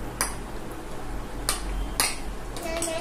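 Fork clinking against a plate of Bengali sweets, three or four light metallic taps over a steady low room hum, close by, with no talking.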